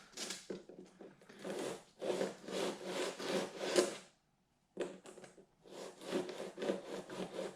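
A rasp or file works rough edges on a wooden piece in quick rhythmic strokes, close and clear, with one short pause partway through before the scraping picks up again.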